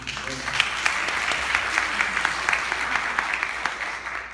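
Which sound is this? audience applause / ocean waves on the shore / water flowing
audience applause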